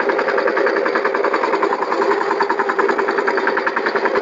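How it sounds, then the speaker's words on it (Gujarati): A power tiller engine runs steadily in a cotton field while forming ridges, a close, loud, rapid chugging with an even pulsing rhythm and no voices. "અમારું પાવર ટીલર ત્યાં હાલે છે"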